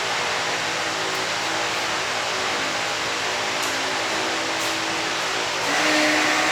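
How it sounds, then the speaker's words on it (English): A Pontiac Ventura's fuel pump runs with a steady, loud electric whir and hiss, unbroken for several seconds and rising slightly near the end. "Fuel pump."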